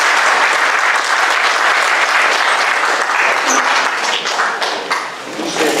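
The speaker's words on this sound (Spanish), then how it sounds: "Un aplauso" An audience in the auditorium of a Casa de la Cultura in Tarija claps loudly and steadily, the applause easing off slightly toward the end with scattered taps and faint crowd murmur.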